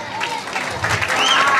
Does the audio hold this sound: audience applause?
yes